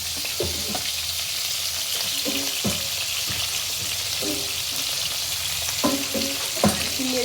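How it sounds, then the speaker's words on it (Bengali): Prawns frying in oil in a wok, a loud continuous sizzle broken by repeated scraping knocks of a spatula stirring them. "চিংড়ি মাছগুলোকে তেলে হালকা করে ভেজে নেবো।"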